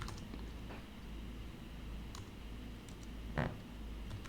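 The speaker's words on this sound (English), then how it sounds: "If I can type my commands correctly." Quiet computer keyboard typing under a low hum: scattered, faint key clicks at uneven intervals, with one sharper, louder clatter near the end.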